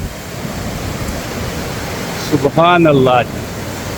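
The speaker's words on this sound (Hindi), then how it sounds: "ऊपर से वो चश्मे का पानी आ रहा है जी नीचे" Spring water runs down from a snowy mountain near Naran, a steady broadband rush throughout, briefly covered by someone speaking near the end.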